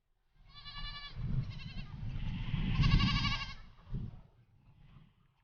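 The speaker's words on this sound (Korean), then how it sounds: "흑염소들의 울음소리로 설원한 깊은 산골." Black goats on a mountain goat farm in Jinan, North Jeollabuk-do, bleating in a loud, wavering chorus of overlapping cries close by, followed by fainter scattered bleats as the calls die down, no voices.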